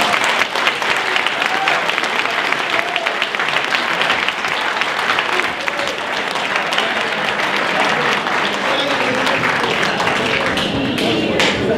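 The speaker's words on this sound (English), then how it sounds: "let's give them a big round of applause" Sustained, loud applause from a crowd at a chamber of commerce Chairman's Ball in Gainesville, greeting newly installed chamber officers; dense steady clapping fills the whole stretch with no talk over it.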